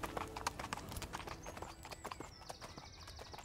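A horse's hooves trot in a brisk clip-clop rhythm, close and fairly faint, while a faint high whinny-like tone drifts through near the end.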